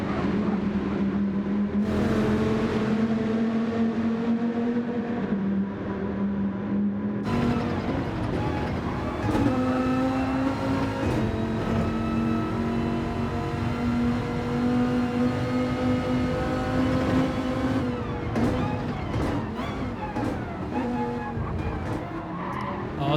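Race cars roar through the Laguna Seca corkscrew in a racing video game, several engines droning loudly and continuously with rising and falling pitch, tire squeal and skidding mixed in, a gear shift break near the middle.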